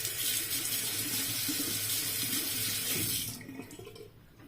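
Cold tap water runs steadily into a sink for rinsing after a shave, a close, even splashing flow that stops abruptly after about three seconds, leaving only faint drips.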